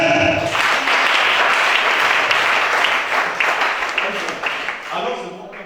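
A worship congregation claps loudly and steadily, a broad, close burst of applause that swells quickly and slowly thins out toward the end, with some speech mixed in at the start and finish.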